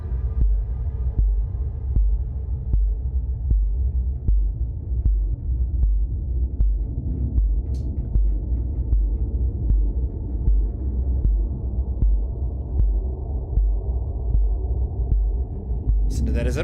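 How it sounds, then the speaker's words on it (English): Deep, bass-heavy heartbeat effect in the underwater survival game Subnautica, a steady throbbing pulse about once per second repeating throughout over a low rumbling hum. "Is that supposed to be a heartbeat?"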